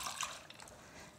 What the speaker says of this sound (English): Pour in some milk